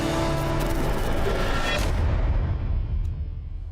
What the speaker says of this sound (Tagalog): Pag nakarinig ng putok ng baril yan